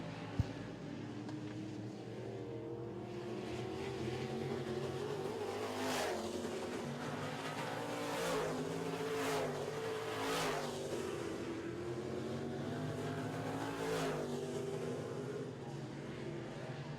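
Modified race car engines roar continuously during a Midwest Modifieds heat race as cars pass in succession, their pitch rising and falling with each sweep by, with faint talk underneath.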